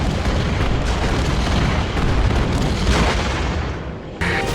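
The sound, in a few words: big cannon firing in video game Skylanders Giants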